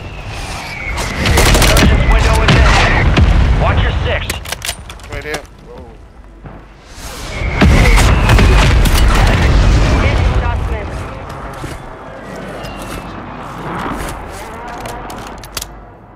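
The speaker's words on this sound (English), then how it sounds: "Mortar strike inbound." Mortar strike explosions from Call of Duty Warzone hit in two heavy, booming clusters of blasts and crackling debris, loud and close, with quieter gaps between them.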